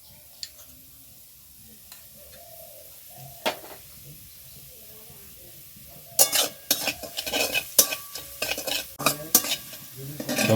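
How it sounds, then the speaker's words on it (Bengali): Vegetables frying in oil with salt and turmeric, quiet at first, then a spoon scrapes and clatters repeatedly against the pan over a light sizzle, getting busier and louder toward the end. "এই সবগুলো এখন তেলের মধ্যে একটু ভালো করে ভেজে নেব।"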